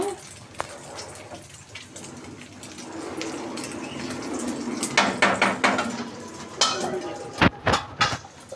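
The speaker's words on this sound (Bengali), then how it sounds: "এবার আমি ডিমটা ঢেলে দিয়ে ফ্রাই করে নেব।" Beaten egg poured into a pan and left to fry for a Bengali begun bhaja and dim posto dish, a rising hiss of sizzling oil with scraping, clinking utensil taps against the pan near the end.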